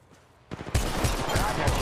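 In Apex Legends Mobile, gunfire opens after a quiet moment: a few isolated shots, then a dense, loud burst of rapid automatic fire that continues to the end.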